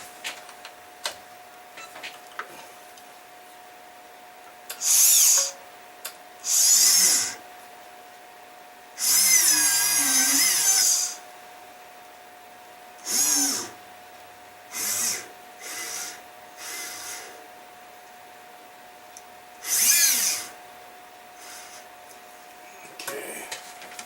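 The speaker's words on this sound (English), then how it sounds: "I'm going to put a starter drill in here." A small starter drill bit bores into metal during diamond bead setting for custom jewelry, heard as several short, separate whirring bursts over a faint steady background tone.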